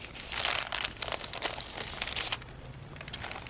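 Paper crinkling and rustling up close as a junk journal kit is unwrapped and its sheets, including hand-dyed coffee paper, are handled, with dense bursts of crackle that thin out toward the end.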